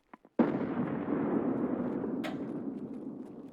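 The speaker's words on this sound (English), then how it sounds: "Fantastic grenade." A grenade goes off in Escape from Tarkov during an EU solo battles championship match: a loud, sudden blast after two small clicks, then a long rumbling roar that slowly fades, with a sharp crack partway through.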